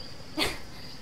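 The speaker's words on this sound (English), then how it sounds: "And there's a dog." A single short, faint dog bark sounds in the Die Young game, brief and somewhat distant over a quiet, faintly buzzing background.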